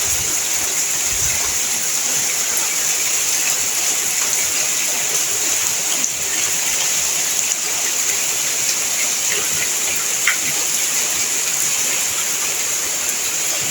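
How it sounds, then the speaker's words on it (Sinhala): Heavy rain pours down steadily around a house, a dense, even hiss that stays loud and unbroken throughout, with no voices. "ගෙදර ඇවිල්ලා ටිකක් වෙලා යනකොට හයියෙන් වහින්න පටන් ගත්තා."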